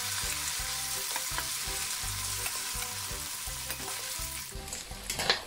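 Pork deep-fries in oil with a dense, steady sizzle and crackle, and low bubbling pulses run beneath it. Near the end there are a few louder pops and a brief clatter, with no talking.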